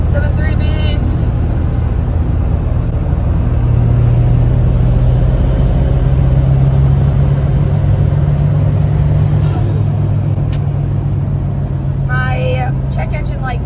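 A 2003 Ford pickup with the 7.3 Powerstroke diesel engine drives along, its deep steady engine drone rising slightly as it pulls, with road rumble close by and brief higher noises near the start and end.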